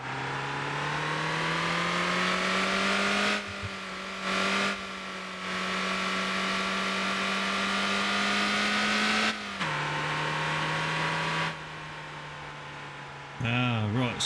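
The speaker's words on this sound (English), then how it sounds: "Wow, this is a noisy bus" A bus engine in the Motor Town driving game drones steadily at a loud, constant pitch, with shifts in tone as it changes gear, while someone talks over it.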